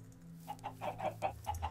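Minecraft chickens in a Feed The Beast modded farm cluck in a run of about seven short, evenly spaced clucks over a low steady hum, with no talking.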